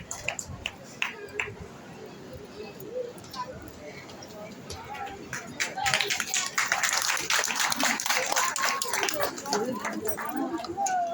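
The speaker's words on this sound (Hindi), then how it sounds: "समस्ते जोरदार करताली सहित स्वागत करिवे।" An audience at an August 15 ceremony applauds to welcome an honoured guest, starting as scattered claps and swelling into dense, steady applause midway, with voices over it.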